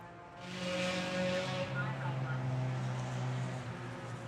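A Honda Civic race car passing on a road-racing track during a club racing event, its engine note rising and then holding as it goes by at moderate distance, with commentators talking over it.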